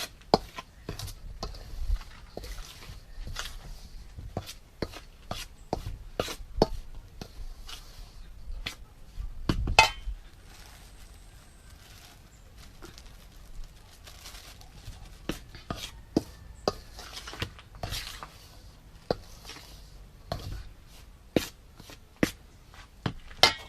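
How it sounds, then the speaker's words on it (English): Flour mixture being stirred for Jamaican dukunu, sharp spoon knocks and scrapes against the bowl in an uneven repeating rhythm, close and fairly loud over quiet background. "Adding the flour make it get smooth, and then you stir."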